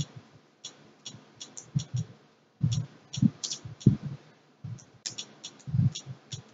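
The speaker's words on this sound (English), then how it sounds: "we're going to use our Bluetooth keyboard, and let's just type something in" Keystrokes tapped on a Bluetooth keyboard while entering a search on a Fire TV Stick, heard as quiet, close clicks arriving in short irregular bursts separated by brief pauses, with no talking.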